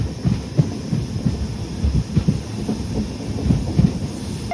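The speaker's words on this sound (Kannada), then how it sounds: "ಪ್ಲ್ಯಾಟ್ಫಾರ್ಮ್ ನಂಬರ್ 2ಗೆ ಹೋಗ್ತಾ ಇದೆ ನಮ್ಮ ಟ್ರೈನ್ ತರ್ಲುಪಾಡಲ್ಲಿ" A fast passenger train on the Hubballi–Srisailam line rolls into platform 2 at Tarlupadu station, its steady low rumble broken by repeated clickety-clack wheel knocks over rail joints, fairly close and loud, with no talking.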